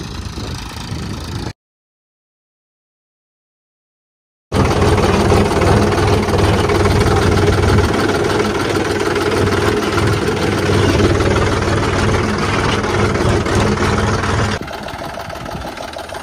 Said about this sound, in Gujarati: આજે અમે ટ્રેક્ટર લઈને આવેલા છે બીજાના ખેતરમાં રોકડી કરવા માટે